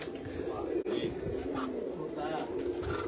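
Racing pigeons coo in a loft, a low continuous burbling that runs through the whole stretch, close and steady under a busy background.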